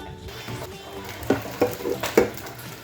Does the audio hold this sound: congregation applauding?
no